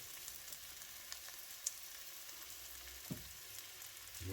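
Wild St George's mushrooms frying in a pan give a soft, steady sizzle with a couple of faint clicks, fairly quiet and heard alone with no talking.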